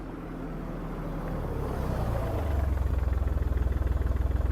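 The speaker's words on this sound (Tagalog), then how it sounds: "narinig namin ang ugong ng makina ng sasakyan" A car engine hums as a vehicle approaches a petrol station at night. The low, throbbing rumble starts faint and swells steadily louder into a pulsing drone, with no talking.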